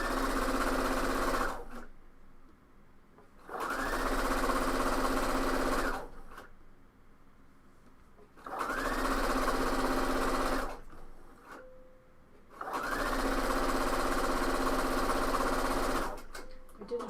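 A sewing machine stitches the side seams of a coat in four long bursts of steady whirring, each separated by brief quiet pauses, close and moderately loud.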